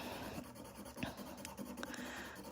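A hard pencil scratches across paper while drawing a portrait of Ruth Bader Ginsburg. Short, quiet, close strokes follow one another in an uneven rhythm, with no talking.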